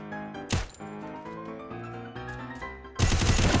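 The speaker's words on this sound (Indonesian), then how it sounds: "Oke, mulai tembak-tembakan." Rapid gunfire in a mobile battle-royale video game shootout, bursts of automatic shots with metallic pings and a loud final volley, no voices.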